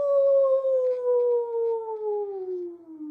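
A human voice imitates a dog's howl: one long, sustained, gliding note that slowly falls in pitch over about three seconds, close and clear, with no other sound.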